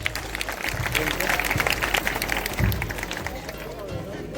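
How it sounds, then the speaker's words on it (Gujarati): An audience claps steadily at a school annual function at Diwaliba High School in Pithvadi, a dense, fairly loud patter of hands with a voice speaking over it throughout. "મિત્રો, આને આપણે સૌ તાળીઓથી વધાવીશું."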